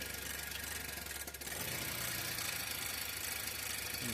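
A Honda engine with a timing fault runs roughly with a dense rattling rumble that sags briefly, nearly stalling when the exhaust side is activated, then picks back up and keeps running.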